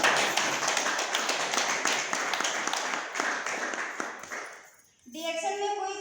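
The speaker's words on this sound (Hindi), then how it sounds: "इन सभी हस्तियों के लिए जबरदस्त ताली चाहिए।" An audience at an honouring ceremony for guests gives hearty clapping, a loud crackling stretch that fades out after about four and a half seconds before a voice and tonal sound take over.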